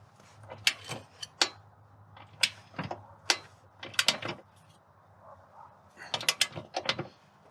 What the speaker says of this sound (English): So I'm just gonna stack up the wrenches and push real hard.